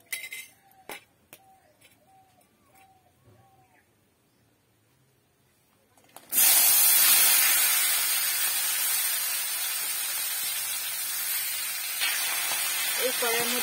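Vegetables drop into hot oil in a wok for a vegetarian shukto with bitter gourd, bursting into a loud, sustained sizzle that holds steady for several seconds after a few quiet clinks of utensils.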